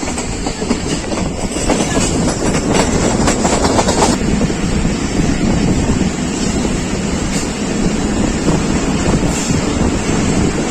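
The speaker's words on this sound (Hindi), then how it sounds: "गुजरांवाला पहुंच रही है 106 डाउन रावल एक्सप्रेस और यहाँ भी रुकेगी नहीं, पास कर जाएगी स्टेशन।" Pakistan Railways 106 Down Rawal Express running through Gujranwala station without stopping, a loud, steady roar of wheels and carriages with rhythmic clatter and wind buffeting, continuous throughout with no talk.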